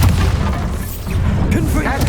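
A Bombarda spell explodes in Hogwarts Legacy, a loud, dense booming blast with a crashing roar that fills the whole two seconds.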